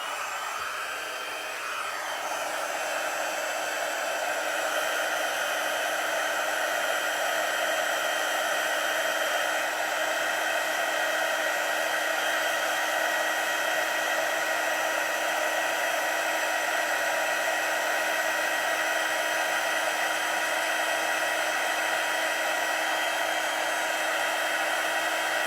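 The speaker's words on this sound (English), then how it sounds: "So this is the Stampin' Up! Heat tool." Stampin' Up! heat tool running on setting 2 while melting embossing powder, a steady loud whooshing blower hiss like a hair dryer, unbroken for the whole stretch after a brief start-up, with no talking.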